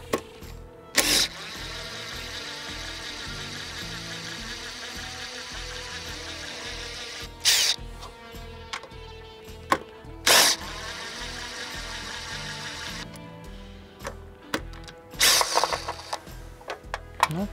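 A Makita impact driver in automatic mode whirs in a sustained high buzzing drone, broken by several short, loud hammering impact bursts, close up with no talking.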